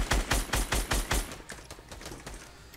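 Automatic gunfire in Fortnite Battle Royale, a rapid, evenly spaced burst of about a dozen loud close shots that gives way to fainter, scattered distant shots.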